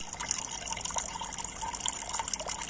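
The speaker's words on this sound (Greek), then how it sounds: "Έχω βάλει τον κουβά να ρίχνει το νερό κάτω να γεμίσει" Water pours from a bucket into a small pond made from a flower pot, a continuous splashing trickle at moderate level.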